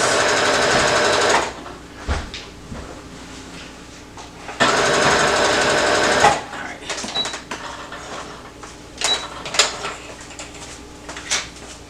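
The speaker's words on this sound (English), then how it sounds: "Sewing right over those ruffles." A sewing machine runs in two loud, steady bursts of rapid mechanical whirring while stitching over fabric ruffles on a summer romper. Softer handling clicks and knocks fill the gaps between bursts.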